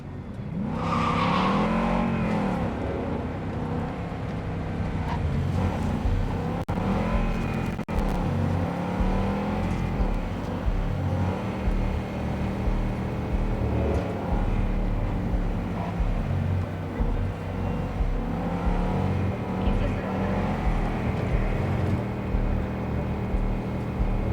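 A car being driven in Cyberpunk 2077 gives a loud, continuous engine drone that swells and eases as it accelerates, holding steady for over twenty seconds with no talk.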